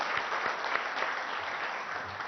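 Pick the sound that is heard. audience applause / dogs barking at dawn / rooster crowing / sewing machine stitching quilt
audience applause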